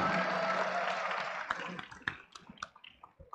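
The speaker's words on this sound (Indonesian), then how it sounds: "Teman-teman semua boleh kita beri tepuk tangan untuk Bang Anies" Crowd applauding Anies Baswedan at an Indonesian gathering, starting as a dense full roar, then thinning into scattered individual claps as it dies away.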